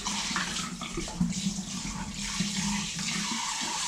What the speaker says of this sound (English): let's wash this bowl real quick